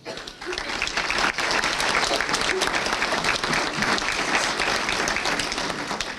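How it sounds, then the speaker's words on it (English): Loud, dense applause from a dinner crowd honoring youth livestock skillathon and judging teams, sustained for several seconds after a brief quieter start. "if you would please stand up so we can give you a round of applause"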